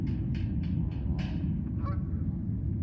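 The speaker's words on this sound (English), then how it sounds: "It's a bird." A goose honks in a quick series of five or six nasal calls, close and fairly loud, over a steady low rumble, with a fainter squawk near the end.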